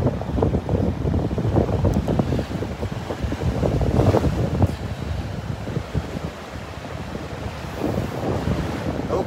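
Steady breezy wind buffeting the microphone on a Gulf beach at Delnor-Wiggins, with surf washing in beneath it, loud and continuous with no talking.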